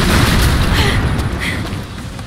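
A heavy booming explosion in the video game Rise of the Tomb Raider, with a rumbling tail that fades out over a couple of seconds, loud and close.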